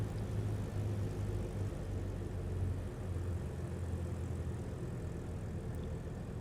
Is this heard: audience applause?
no